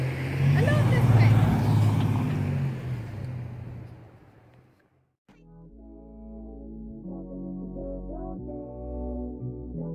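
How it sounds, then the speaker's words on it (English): A car approaching on a coastal road near Half Moon Bay, California, its broadband engine and tyre roar swelling loud in the first seconds and fading out, followed by quieter talk from people nearby. "But there's a car coming."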